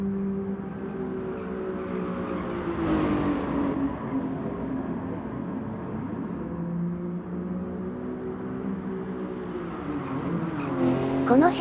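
A race car engine in a Gran Turismo Sport Sunday Cup beginner-league race drones loudly and continuously, its pitch rising and dipping through acceleration and corners, with brief harsh bursts of noise along the way.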